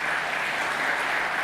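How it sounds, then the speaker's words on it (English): Audience applause for the panelists at a sustainability forum, a steady dense clapping that holds at an even level from start to finish. "please give all of them a big round of applause"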